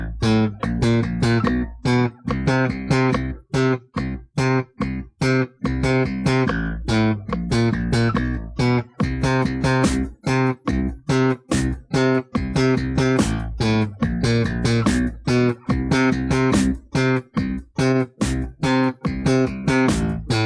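Slap bass line played with rhythmic right-hand motion, mixing long and short tones in a steady, punchy repeating groove of percussive plucks, loud and continuous with no voices.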